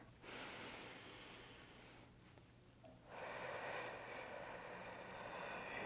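Slow deep breathing during a neck exercise: one airy inhale, a short pause, then a longer and slightly stronger exhale, soft and close-miked, with no talk.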